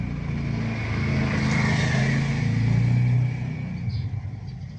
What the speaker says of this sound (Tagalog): Ayan, yung motor ng asawa ko